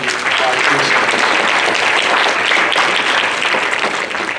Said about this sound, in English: Can we give a round of applause to our team?